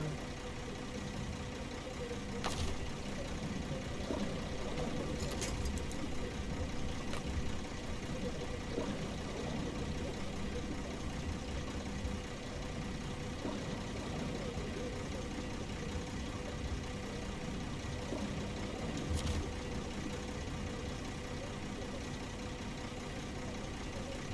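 A heavy truck engine idles steadily in the SnowRunner video game, a continuous low rumble at constant level throughout, with a few faint clicks on top.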